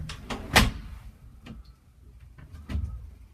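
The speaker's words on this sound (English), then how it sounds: "you step in, close the white door" A white elevator door slides and bumps shut with a couple of knocks and rattles, followed by quieter clunks, fairly close in a quiet space.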